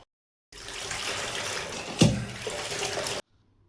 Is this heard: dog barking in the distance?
no